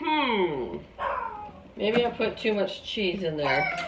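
A pet dog whines in drawn-out, falling cries close by in a home kitchen, mixed with a person talking over it.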